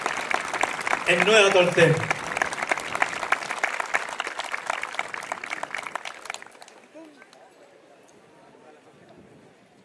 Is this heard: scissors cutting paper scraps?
no